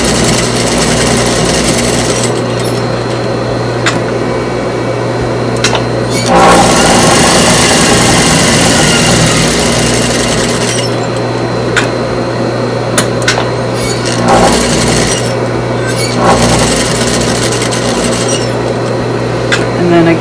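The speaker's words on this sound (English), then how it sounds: "I'm just gonna do a little top stitching around the edge." A sewing machine runs top stitching around the edge of a fabric surgical mask with a wire inside, a loud continuous mechanical rattle that speeds up in runs and pauses.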